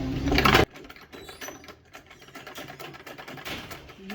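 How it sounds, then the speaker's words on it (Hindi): A sewing machine stitches fabric, starting with a loud brief burst and then settling into a steady rhythmic mechanical whirring and ticking, close by with no voices. "इस तरह मैं इधर से सिलाई शुरू करूँगी।"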